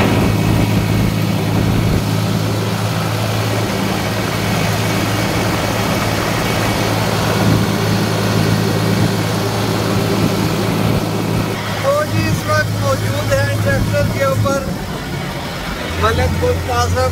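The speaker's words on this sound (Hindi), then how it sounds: "ट्रैक्टर की आवाज़ बहुत ज़्यादा होती है" A loud, steady engine drones continuously like a running tractor, with a low rumbling hum throughout and a voice speaking over it.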